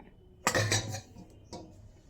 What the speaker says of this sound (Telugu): అదొక గిన్నె తీసుకున్నానండి